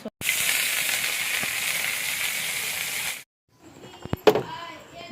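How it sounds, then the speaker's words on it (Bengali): Papad and eggplant fritters (beguni) frying in hot oil, a loud steady sizzle for about three seconds, then a pause and some softer clattering. "দেখো সন্ধ্যেবেলাকার এই যে পাঁপড় ভাজলাম আর বেগুনি করলাম"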